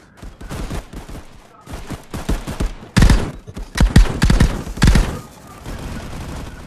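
Rapid bursts of gunfire from a VR shooting video game, volleys of sharp shots with a few louder blasts toward the middle, close and dense with almost no pause between them.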